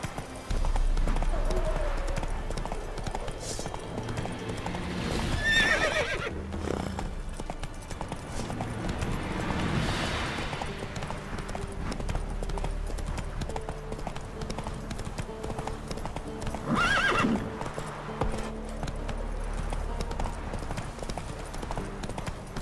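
Steady hoofbeat clip-clop of a horse in the Witcher 3 video game, continuous across the whole stretch with game ambience beneath and brief voices calling out near the start and middle.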